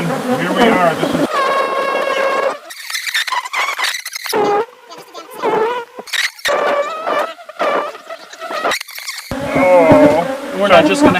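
Killer bees buzzing from a hive inside a ceiling, a loud, dense insect drone with shrill whining bursts that rise and fall irregularly, with a few short voices mixed in.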